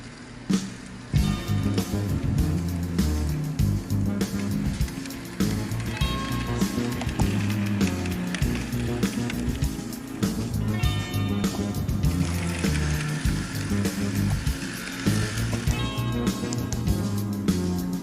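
An HO scale model train with an FA locomotive and a string of cars runs laps around the layout, giving a steady rolling clatter of wheels on track with rhythmic clicks throughout, alone with no voices.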